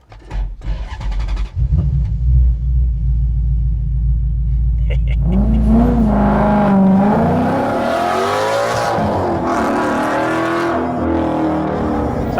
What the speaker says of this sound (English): startup procedure. Key in the slot. Start button. Wait for the fuel pump.